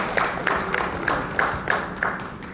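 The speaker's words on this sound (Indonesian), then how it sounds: "Tepuk tangan untuk semua." An indoor audience at a regional education award ceremony applauding, steady mid-distance clapping with a few sharper claps standing out at a regular pace, no voices over it.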